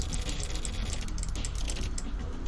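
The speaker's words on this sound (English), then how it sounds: "You can hear my mouse clicking a whole bunch because I have a really loud mouse." Rapid clicking from a loud computer mouse, mixed with keyboard-like tapping, sounds close and continuous throughout.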